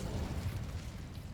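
Fire spell in the video game Hogwarts Legacy, a brief rumbling whoosh of flame with a low, dense burst lasting just over a second, loud and steady with no voices.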